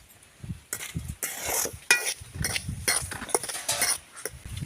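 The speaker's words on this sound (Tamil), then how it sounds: "மாவு வதக்கிக்கிட்டு இருக்கிறேன்" Flour is stirred and roasted in a pan for kozhukattai, with a spoon scraping and clinking against the metal in quick, close, irregular strokes and no voices.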